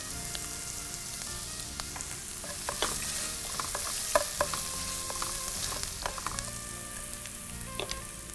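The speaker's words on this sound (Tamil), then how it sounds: "இப்போ இந்த வெங்காயம் வதங்கும் போது நம்ம ஒரு சிட்டிகை உப்பு சேர்த்துடலாம்." Onion and crushed garlic sautéing in a pan, a continuous sizzle with repeated clinks and scrapes of a stirring spoon against the metal, nearby and moderately loud, no speech.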